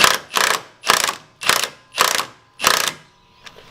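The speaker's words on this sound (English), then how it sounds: "Okay, let's do the top. Tighten the top." A ratchet tightens bolts on a top plate in six quick, loud bursts of clicking, evenly spaced about half a second apart, close up with no voices.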